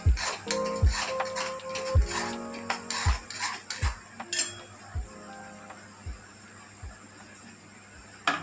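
Spoon scraping and knocking against a pan while flax seed laddu mixture is stirred into hot jaggery syrup, with repeated low thuds about once a second and light clinks, close and moderately loud.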